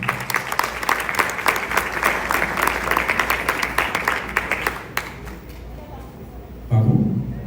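An audience at a women's creative arts event applauds an invited speaker with dense, lively clapping for about five seconds, then the clapping thins and fades, and a voice briefly speaks at the very end.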